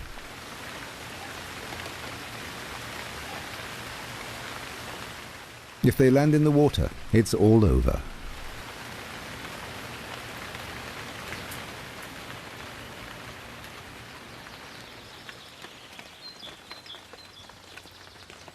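Steady rain on water and foliage, a real downpour in the wild, hissing continuously throughout with a voice speaking over it and a brief splashy burst partway through.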